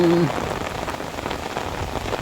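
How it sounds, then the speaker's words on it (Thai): Heavy rain pours steadily and close by onto shop roofs and surfaces during a long downpour, a dense continuous hiss with no talking. "รับน้ำฝนเต็มๆนะครับ"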